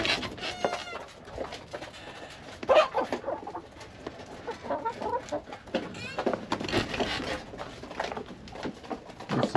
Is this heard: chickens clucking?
yes